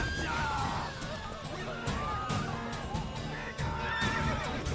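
A horse neighs and whinnies repeatedly in The Witcher III video game on Nintendo Switch, loud and close, with hoof clatter and game noise underneath.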